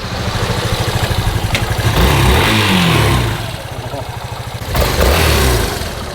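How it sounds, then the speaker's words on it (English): A motorcycle engine, picked up as a rental on Santorini, idles with a pulsing mid-pitched throb. It swells into two strong revs, one near the middle and one near the end, heard close with no talking. "We're picking up a motorcycle."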